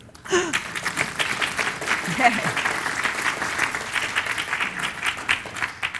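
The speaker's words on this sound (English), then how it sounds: "Clap." Audience applause after a talk about UFO events at Rendlesham Forest, a steady wash of clapping sustained for several seconds, with a brief spoken word near the start.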